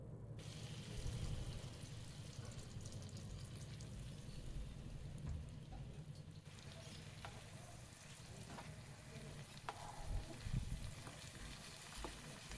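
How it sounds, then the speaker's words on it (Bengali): Marinated chicken pieces frying in melted butter in a wok over medium-low flame, a soft steady sizzle and crackle with occasional stirring scrapes, fairly quiet and without voices. "পাঁচ থেকে সাত মিনিট মিডিয়াম টু লো ফ্লেমে এগুলোকে ভেজে নেব"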